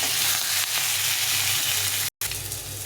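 Potato and eggplant fry in oil, a loud steady hiss of sizzling heard up close, broken by one brief cut-out near the end, with no talk.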